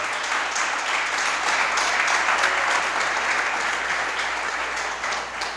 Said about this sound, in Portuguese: Vamos aplaudir o Senhor Jesus? Bem forte, porque ele merece.